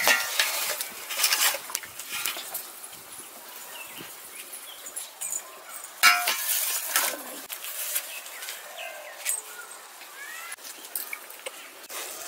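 Boiled ash gourd pieces stirred in sugar syrup in a pan for petha: soft, irregular scraping and sloshing strokes with a gentle sizzle, heard close and fairly quiet throughout.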